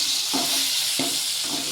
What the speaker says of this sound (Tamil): இப்போ தக்காளி ஆட் பண்ணிக்கலாம். இதை நல்லா ஒரு கிண்டு விட்டுக்கலாம்.